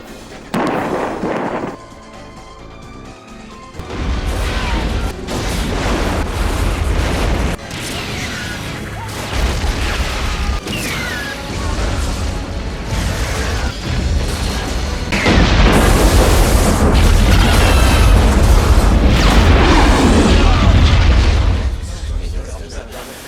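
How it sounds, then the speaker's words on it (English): A huge special-effects blast tears through a flaming airfield in the French Pyrenees, deep booming rumbles and roaring fire building into a massive sustained explosion, loud and close, with a voice speaking over it. "culminating in an immense explosion that made you hold your breath"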